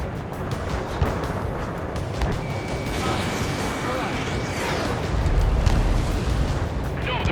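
Missile launch and explosions in Ace Combat 7: Skies Unknown, rumbling booms and a rushing launch whoosh layered over continuous jet-engine roar, building heavier toward the end.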